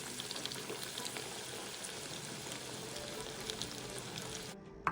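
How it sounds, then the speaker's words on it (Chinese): Chunks of Hakka-style pork belly deep frying in hot oil give a dense, steady sizzle with fine popping bubbles, moderately loud and continuous, cutting off abruptly at the very end. "接着再将剩下的肉块继续油炸至全部完成。"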